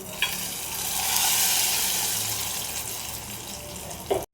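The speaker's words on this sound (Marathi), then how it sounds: "आपण कढीपत्ता जिरे मोहरी याची फोडणी आपण चटणीवर टाकतोय" Hot oil tempering of curry leaves, cumin and mustard seeds poured over ragi chutney gives a loud, bright sizzle that swells and then slowly fades, with a sharp clatter at the end.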